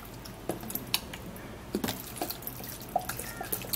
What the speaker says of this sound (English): you're going to be putting in a little bit of water, okay, to blend this